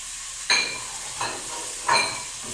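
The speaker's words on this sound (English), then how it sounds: "I'm going to throw in these veggies to cook and saute" Beef and vegetables sauté in a pan under a constant soft sizzle, with three stirring scrapes spaced roughly a second apart.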